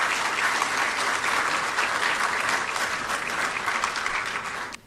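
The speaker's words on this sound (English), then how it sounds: "Another round of applause, please." An audience at a swearing-in ceremony for a new Chief Justice, sworn in by President Mahama, gives a dense, steady round of applause that carries on for several seconds and then trails off abruptly.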